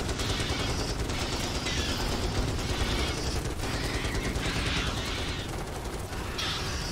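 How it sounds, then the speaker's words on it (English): Rifle infantry firing from a wall in the Starship Troopers Terran Command strategy game: continuous rapid gunfire under a constant dense battle din, with no pauses across the clip. "Our rifle infantry's firing from the wall"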